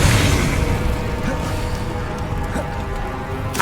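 Whooshing burst and crackling fire from an Incendio spell in Hogwarts Legacy, a loud rush that fades into rumbling combat noise with brief pops near the end.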